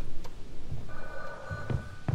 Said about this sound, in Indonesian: Aduh, ada telepon lagi